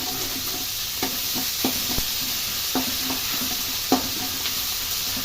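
Ginger paste frying in a pan for upma, a loud, dense, steady sizzle close up, with intermittent knocks from a stirring utensil.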